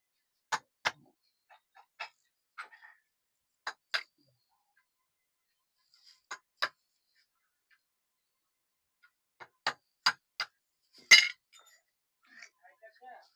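Screwdriver tapped against the jagged, protruding corners of a punched metal opening to trim them level during fitting of a steering box on an MG Hector. Sharp metallic clicks come in short bursts with gaps between them, close and moderately loud.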